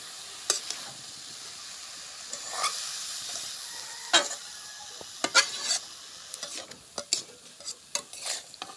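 Banana stem frying in a pan, a soft background sizzle broken by a string of quick scraping stirs that grow busier and more frequent toward the end, with no talking.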